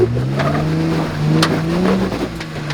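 Jeep Wrangler engine working at low revs while crawling up the rocky Moab Rim Trail, a loud steady rumble rising and falling as the throttle is worked, with occasional clunks and scrapes from the rocks.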